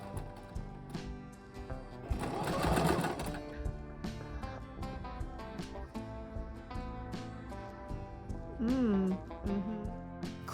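A sewing machine stitches a shirt sleeve in short rhythmic bursts of needle clatter, with pauses and a few handling noises between runs, close and moderately loud.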